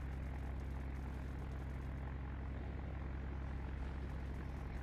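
Airplane droning through the sky in a Roblox naval warfare game, a steady, loud engine rumble with a buzzing propeller tone, continuous and unbroken with no voices.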